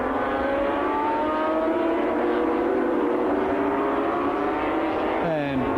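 Sidecar racing motorcycle engines at a 1985 race at Calder, a steady loud howl with harmonics sweeping as revs shift, plus a second machine rising near the end, under race commentary.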